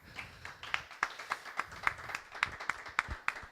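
Scattered, fairly quiet clapping from a small audience at a poetry session, with distinct individual claps sounding in an uneven rhythm, applauding the audiovisual crew.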